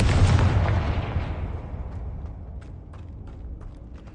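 A Confringo spell explosion in Hogwarts Legacy, a loud booming blast at the start that decays into a long rumbling tail with faint crackles.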